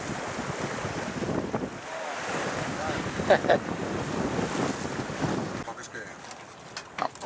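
A sailboat under sail off Mataró in May, with steady wind buffeting the microphone and waves washing against the hull throughout, while people talk quietly in Catalan over it.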